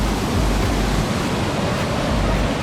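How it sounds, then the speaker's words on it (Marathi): A hidden waterfall near Thane in the Yeoor hills roars with a strong, powerful flow, a loud, dense, unbroken rush of water heard close and without voices. "तुम्ही पाण्याचा फ्लो बघू शकतात. पाण्याचा फ्लो खूप जोरात आहे"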